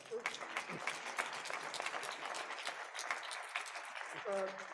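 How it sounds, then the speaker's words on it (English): A parish audience at a Lenten retreat gives a priest a round of applause, moderately loud scattered clapping that runs throughout, with voices talking over it and a short spoken phrase at the end. "So let's give Father a big clap."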